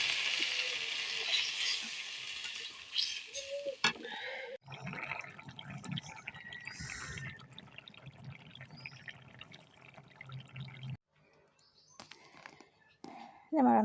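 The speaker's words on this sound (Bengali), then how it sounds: "কষাইতেছি আমার তরকারি কষান শেষ" Vegetable and fish curry with greens sizzling and frying in a pan, a soft continuous crackle and hiss with faint stirring clatter, fairly close, with brief pauses near the end.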